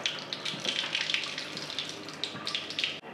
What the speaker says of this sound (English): there's a lot of air bubbles right now inside the water stream